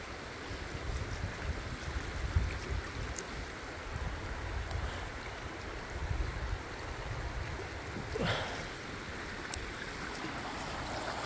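Water rushing at the point where two streams meet makes a steady, fairly faint outdoor wash, with a soft breezy rumble and a couple of brief splashy accents.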